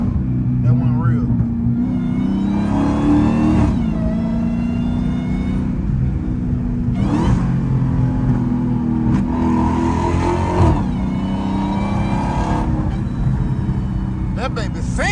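A hoodless Dodge Hellcat's engine rumbles and revs loudly throughout, a steady close growl with several surging rises in pitch.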